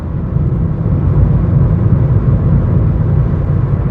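Steady, loud low-frequency road and engine rumble inside a Ford Ka at full throttle in fifth gear, holding a constant drone throughout without talk.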